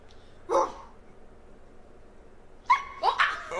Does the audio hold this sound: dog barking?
yes